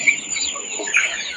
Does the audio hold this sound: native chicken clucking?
yes